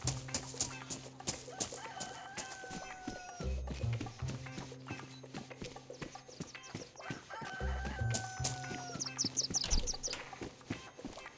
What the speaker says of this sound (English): that clucking cock will be silenced here shortly